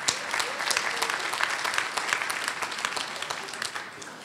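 A university audience gives a round of applause, many hands clapping steadily in a large room before the sound fades slightly at the close.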